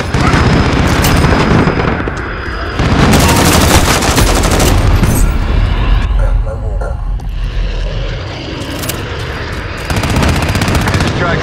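Rapid gunfire bursts in Call of Duty: Modern Warfare, loud and dense, mixed with aircraft engine roar and battlefield noise across the scene, with voices speaking over the action.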